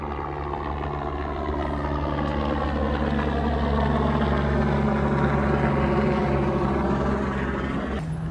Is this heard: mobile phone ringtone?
no